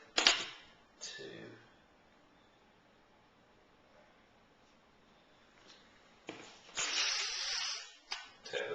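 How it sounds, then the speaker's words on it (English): Origami paper is torn by hand along a scored, folded edge: short, close rasping rips, one near the start and a longer tearing stretch near the end, separated by near-silence. "tear the paper"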